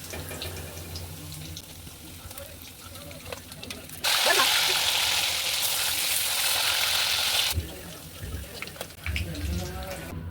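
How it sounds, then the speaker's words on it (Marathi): Paneer pieces fry in hot oil, a soft bubbling hiss that swells into a louder, steady sizzle in the middle before easing back, under quiet background sound. "थोडंसं लालसर होईपर्यंत आपल्याला सर्व पनीरचे तुकडे तळून घ्यायचे आहेत."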